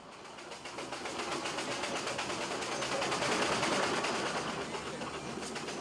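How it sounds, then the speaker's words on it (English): Steam traction engines hauling boats overland through an African forest make a dense, steady, rhythmic chugging and rattling. The sound is continuous, loud and unbroken, and swells slightly midway with no voices. "joined by the steam engines that will pull the boats through the forest"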